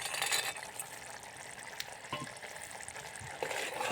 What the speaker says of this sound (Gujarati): ઉકળી ગયું એટલે હવે મિત્રો સિંગ ભજીયા નાખી દેવાના આમાં